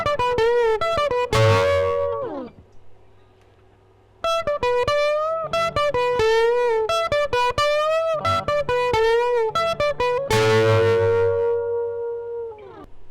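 Electric guitar plays pentatonic licks with string bends, its notes rising in pitch as they bend, in quick picked phrases and held bent notes, close and clear with no talking and a brief pause between phrases.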